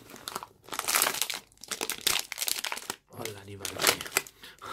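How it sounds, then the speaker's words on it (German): Milka Oreo chocolate bar wrapper, a large 300 g bar, being torn open by hand: a string of close crinkling, crackling bursts of foil and paper with brief pauses, heard under a voice speaking German. "Wir können das jetzt hier oben einfach so aufreißen."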